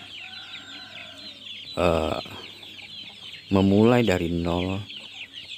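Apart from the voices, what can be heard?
chicks clucking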